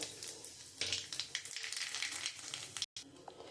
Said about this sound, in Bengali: আমি ওই মাছ ভাজার তেলের মধ্যে আমি একটু কালো জিরে দিয়ে দেবো